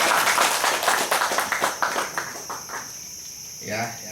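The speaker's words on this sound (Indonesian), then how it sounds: "tepuk tangan dulu." Applause from an audience at a regional parliament members' recess meeting in West Papua, a burst of dense clapping that thins out and fades over a few seconds, ending with a brief voice.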